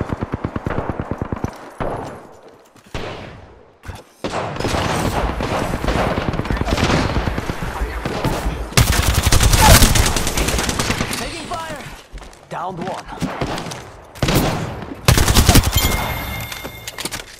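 Gunfire in the battle royale shooter Apex Legends, with rapid bursts of automatic fire and single shots coming in rounds that alternate with quieter gaps, loud and close, while players talk between the exchanges.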